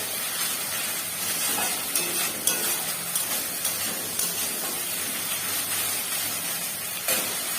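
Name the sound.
frying spice paste (masala) in a pan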